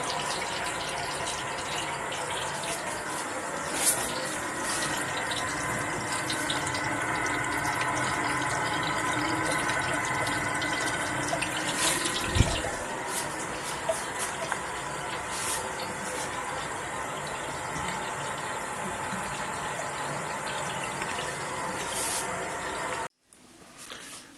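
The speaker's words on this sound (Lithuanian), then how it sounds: "Bėga per kitą galą beveik verdantis vanduo" Nearly boiling water rushes out of the outlet of a homebrew beer wort cooler in a steady, close, continuous hiss and gush that stops abruptly near the end.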